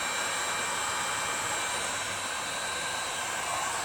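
A heat gun blows loudly and steadily, warming the adhesive on tape used to repair a cracked seat on a Toro Wheel Horse 1238XL lawn tractor, a constant close whoosh with no talk.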